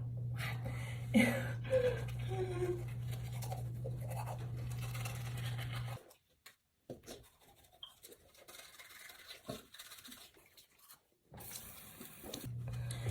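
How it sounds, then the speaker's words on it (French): Someone brushes their teeth with a toothbrush during a morning routine. A close, scratchy scrubbing runs steadily for several seconds, then breaks into shorter, fainter strokes with pauses over a low steady hum before a louder burst returns. "Je suis en train de brosser les dents."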